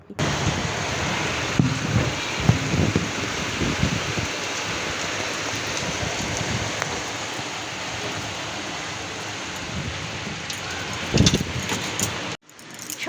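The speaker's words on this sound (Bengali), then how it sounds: "মুষলধারে ওদিকে বৃষ্টি হচ্ছে প্রচুর মানে ভীষণ জোরে বৃষ্টি হচ্ছে" A dense, continuous roar of heavy rain pouring down, broad and unbroken, with a few louder splashes before it cuts off abruptly.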